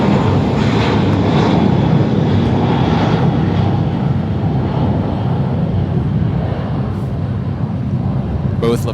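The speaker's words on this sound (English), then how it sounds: "We got the British Airways 28 Foxtrot Heavy taxiing to 25 right here at the south side for departure to London Heathrow." A British Airways Boeing 777 heavy jet taxis toward runway 25 right at Los Angeles International Airport, its engines a steady, loud broadband roar and rumble that holds throughout without any break.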